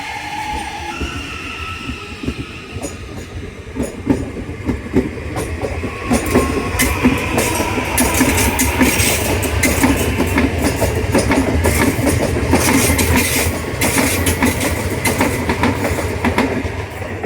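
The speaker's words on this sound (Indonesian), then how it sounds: "Semboyan 5 kereta berangkat ya teman-teman." A crowded KRL commuter train pulls away and picks up speed, its rumble growing with rhythmic clicking of wheels over rail joints and brief squeals of metal.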